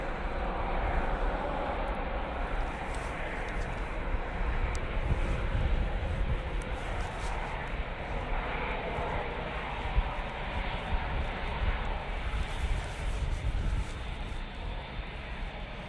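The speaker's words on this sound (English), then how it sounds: "Emirates A380 now returning to Dubai." Emirates Airbus A380 taking off at Manchester Airport, a distant, steady jet rumble with faint wind across the microphone, holding at a low level throughout and rising slightly near the middle.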